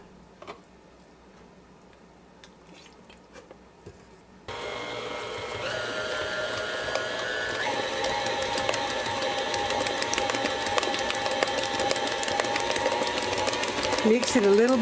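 An electric mixer beats cake batter with sour cream for a 1970s Sock It To Me cake. A few quiet seconds pass, then the motor starts with a steady, close whir that carries on to the end.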